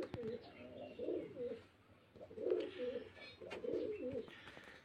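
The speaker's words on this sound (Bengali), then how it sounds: "এগুলো মুর্শিদাবাদের সব গিরিবাজ লাইনের পায়রা" Giribaz-line pigeons from Murshidabad coo in three rounded, throaty bursts spaced a second or so apart, fairly close, with faint background chatter and rustle between the calls.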